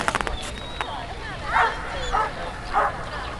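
A few short barks or yips from a Groenendael dog, roughly three spaced bursts, heard over outdoor background noise with a person talking.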